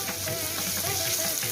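Sambar tempering sizzles steadily in hot oil with onions, Andhra style, a dense close crackle holding even throughout with faint stirring scrapes and no voices.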